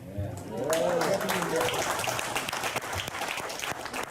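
Fan convention audience at a Star Wars panel applauding, a full, sustained round of clapping from a large crowd that swells early and carries on steadily, with a voice briefly heard under it at the start.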